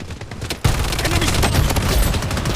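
Dense, continuous automatic gunfire in the video game Project Bloodstrike, a loud burst kicking in after a brief quieter lead-in and sustained rapid shots to the end.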